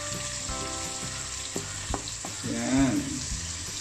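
Onions frying in a pan for pancit, a steady loud sizzle with a few spatula taps and scrapes, close up and without talk.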